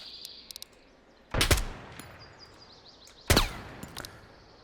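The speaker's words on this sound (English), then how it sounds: "Shooter with a Mosin." Mosin rifle gunshots in a video game, two loud sharp cracks spaced about two seconds apart with ringing tails, plus a few faint clicks and distant chirps between them.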